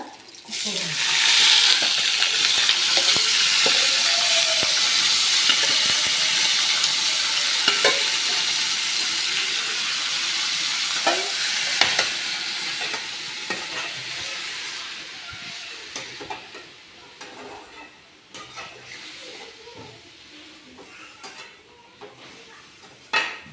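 Snake gourd is tempered and stir-fried in a home kitchen pan, a loud, broad hissing sizzle that slowly fades, with scattered stirring clinks and scrapes throughout, close to the listener.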